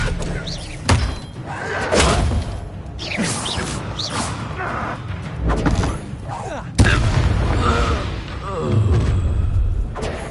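The Expelliarmus spell being cast in Hogwarts Legacy, heard as a series of loud magical bursts and heavy thuds amid continuous combat effects, with one sharp strong impact standing out near the end.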